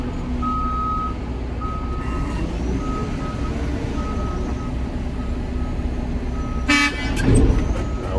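Regular repeating beeps sound over the idling rumble of trucks at a port container-loading area, followed by a short loud horn-like blast near the end.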